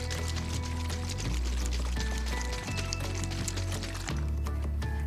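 A container of water and sunflower oil is shaken, giving a rhythmic liquid sloshing and splashing in bursts, close and fairly loud, with a low hum underneath.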